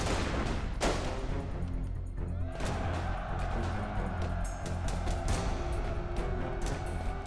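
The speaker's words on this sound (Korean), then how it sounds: "미국 보스턴 인근 렉싱턴시 외곽에서 총성이 울립니다." Gunfire from the 1775 skirmish at Lexington near Boston, a dense, continuous barrage of shots and booming reports, loud and sustained.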